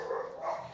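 Dogs barking in a neighborhood, a continuous faint, muffled barking heard from a distance without talk.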